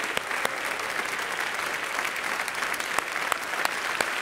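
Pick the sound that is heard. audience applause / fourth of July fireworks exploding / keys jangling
audience applause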